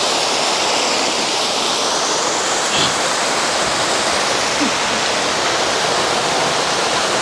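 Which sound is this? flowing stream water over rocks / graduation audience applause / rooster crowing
flowing stream water over rocks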